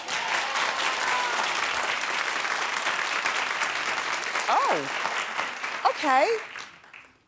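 A talk show studio audience claps loudly and steadily in a sustained burst, then tapers off while a host's voice rises over it near the end.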